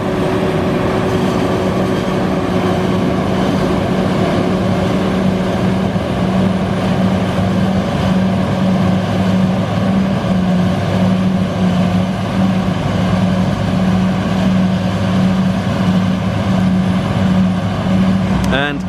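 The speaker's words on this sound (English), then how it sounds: "Absolute beast that is the forage harvester. John Deere 7450, look at that, wow." John Deere 7450 forage harvester working a maize harvest, its engine making a loud, steady mechanical roar with a pulsing hum that continues without a break; no one speaks.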